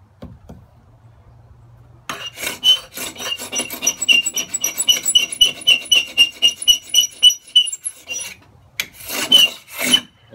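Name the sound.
hand sanding wood with sandpaper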